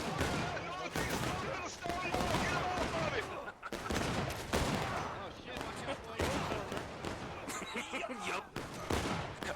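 Rapid gunfire and bursts of shots from a video game battle defending Bunker Hill, dense and continuous throughout, with players talking and shouting over it.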